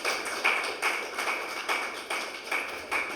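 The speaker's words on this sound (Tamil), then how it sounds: "ஒரு கைத்தட்டலுடன்." Audience at an astrology talk clapping in a slow, regular rhythm, about seven distinct claps spaced evenly, fairly faint and close, with no speech over them.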